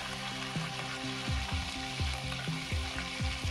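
Pork roast rind sizzling and frying in hot fat in a pot, a steady close crackle with bursts of popping spatter and no talk.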